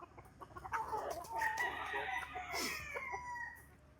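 Super Kelso gamefowl chickens in a battery breeding pen, a rooster crowing in drawn-out calls among clucks and squawks, close and fairly loud, with no talking.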